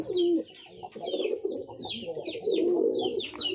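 Domestic pigeons coo repeatedly at close range, soft throaty burbling calls overlapping in a continuous rhythm with slight rises and falls.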